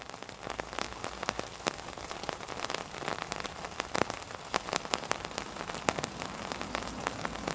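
Steady rain patters on a surface during an overland road trip through France toward the Pyrenees, a dense, even hiss of drops with scattered sharper taps, continuous and fairly close throughout.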